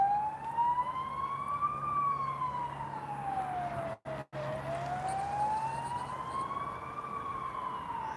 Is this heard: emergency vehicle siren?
yes